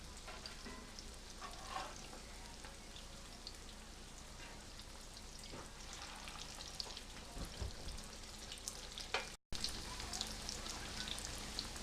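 Big homemade crab cakes fry in hot grease in a pan, giving a steady, dense crackling sizzle with scattered pops that runs continuously at close range, with a brief dropout near the end.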